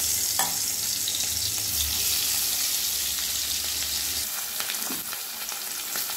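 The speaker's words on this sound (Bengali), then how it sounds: "এবার মাছগুলো ভেজে নেব" Hilsa fish heads rubbed with salt and turmeric fry in hot oil in a wok, a loud continuous close-up sizzle with a low hum underneath at first and light spattering crackles later.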